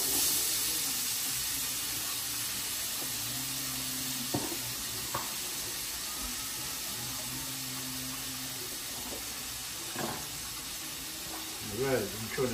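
Celery and green onions sizzling in a frying pan, a steady hiss running the whole time with occasional clinks and stirring, while someone talks over the cooking.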